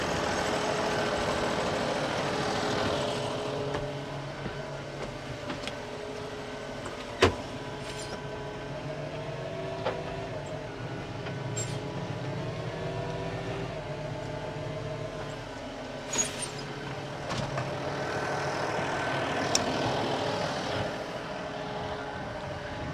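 A farm tractor's engine runs steadily during field irrigation work, first edging forward and then idling, a continuous mechanical drone with a few sharp clanks over about twenty seconds and no voices.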